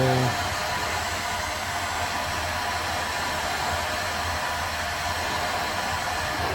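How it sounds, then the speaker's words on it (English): A heat gun blows hot air onto the plastic of a Santa-with-list blowmold being repaired, a steady loud whooshing hiss that runs unbroken throughout. "So we'll use a heat gun."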